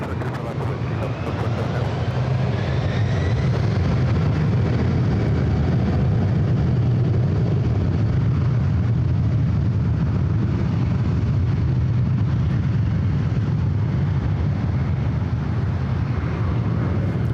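A United airliner taking off from runway 24 left at LAX: a loud, steady jet engine roar dominates throughout, with a broad low rumble, heard from a distance outdoors.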